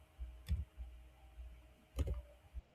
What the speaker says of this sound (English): as I'm typing here.